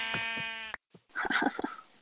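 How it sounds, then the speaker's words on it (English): Sheep in the Minecraft video game bleat twice in a short, nasal wavering call, then a brief pause, followed by clattering game sound effects. "sheep!"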